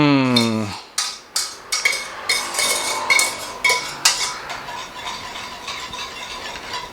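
Whisk clinking sharply against a bowl or pot while stirring vanilla bourbon crème anglaise, a series of rhythmic metallic taps close by, preceded by a brief voice.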